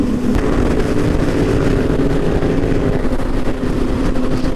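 Yamaha CP2 motorcycles ride on a Dallas highway, a loud, close, continuous engine roar mixed with wind noise and no speech.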